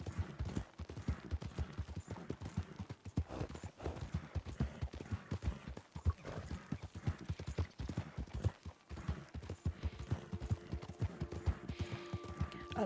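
Horse hooves clip-clop in a steady, brisk rhythm in Red Dead Redemption 2, close and even throughout, with a faint tonal game sound appearing toward the end.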